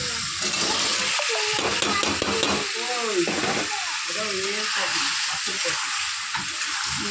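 Young jackfruit frying in oil with a browned spice masala, a steady close sizzle with stirring clatter throughout, while a person talks over it.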